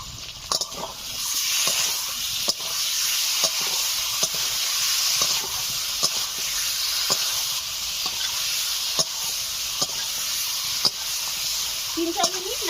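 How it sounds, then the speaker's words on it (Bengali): Spice paste of ground dried chilli, salt and turmeric sizzles steadily in hot oil in a pan, with sharp scraping ticks of a spoon stirring it at a regular pace throughout, close and fairly loud. "মশলাটা ভাজা ভাজা হয়ে গেছে"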